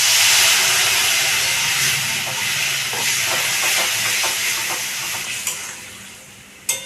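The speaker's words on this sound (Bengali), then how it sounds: "আমি অল্পটুকু জল দিয়ে দেবো।" Water hits a hot pan of spiced paneer and bursts into a loud steady hiss of steam that gradually eases, with stirring taps and a couple of sharp clinks toward the end.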